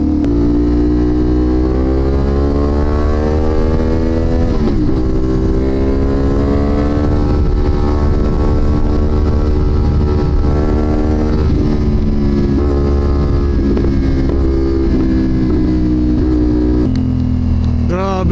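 A CFMoto 450NK motorcycle rides along with its engine and exhaust droning loud and close. The steady, even tone rises and falls gently as the revs shift, and it continues without a break throughout.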